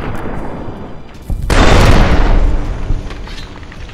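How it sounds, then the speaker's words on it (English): Gunfire and explosions erupt in Fallout: New Vegas, a sudden loud blast breaking over quieter background noise, then a sustained roar of booms and shots that slowly tapers off. "but I get blown up or shot over and over again"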